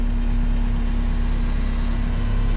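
A tractor engine idles nearby on a frozen farm, a steady low rumble with constant vibration and no other sound.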